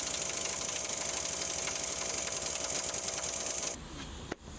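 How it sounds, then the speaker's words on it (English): An impact driver rattles rapidly and continuously while driving out a subframe bolt on a Fiat Punto Mk2 suspension arm, then cuts off abruptly, followed by a single sharp knock. "we chose to drive them out with the impact driver"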